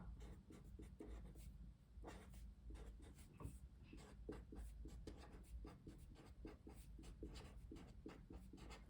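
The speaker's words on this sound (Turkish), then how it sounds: "Önce bir ismimi yazıyorum buraya." Pen writing a name by hand on paper, a steady run of small scratchy strokes and taps, close and continuous, with no talking over it.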